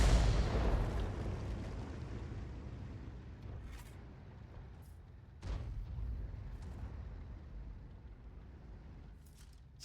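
A 203mm howitzer round fired in a tank video game: a deep, heavy boom that decays slowly into a long rumbling tail, followed by a fainter thud midway and quiet afterward.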